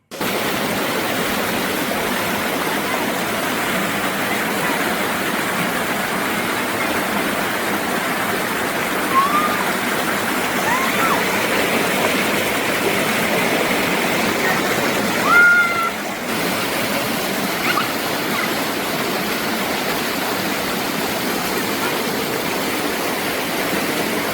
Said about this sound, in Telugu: దారంతా ఈ వాటర్ ఫాల్స్ ను ఎంజాయ్ చేస్తూ పోతున్నాం.